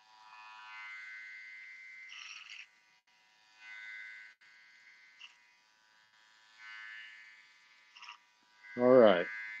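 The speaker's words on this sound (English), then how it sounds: "Using my comb as my clipper guard." Electric hair clippers trim hair with a comb used as a guard, giving close, intermittent buzzing bursts that start and stop repeatedly, ending with a brief voice.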